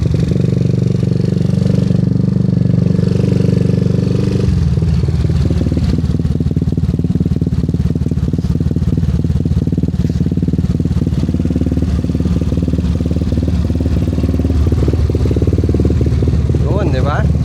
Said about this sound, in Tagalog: Ang ganda ng pagkakatono ng idle rumble.